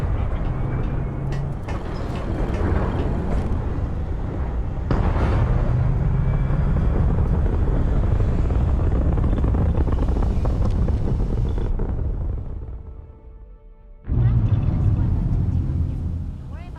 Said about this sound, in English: We leave for SY-920 immediately. All crew prepare for takeoff.